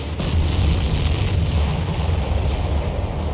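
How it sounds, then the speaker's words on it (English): A deep, rumbling explosion in the video game Ace Combat 7 as a missile hits a supply ship, rolling on continuously, loud and booming, with a muffled roar that barely fades over a few seconds. "Did you see that explosion?"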